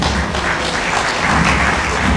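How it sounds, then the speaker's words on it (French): Wedding guests at a town hall ceremony stand and applaud a couple serving as witnesses: loud, close, continuous clapping from a roomful of hands, steady throughout with no speech over it. "Veuillez vous lever et applaudir pour ce couple"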